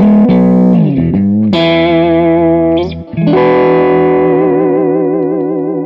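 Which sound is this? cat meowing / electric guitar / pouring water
electric guitar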